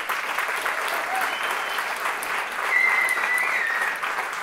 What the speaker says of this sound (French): qu'on applaudisse énormément le Boudouzi